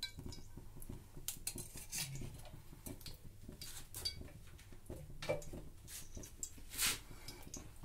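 A metal spoon clinks and taps against a pan while spoonfuls of oil go in for a coconut and roasted chana dal chutney; the clinks are irregular, sharp and close, over quiet kitchen background.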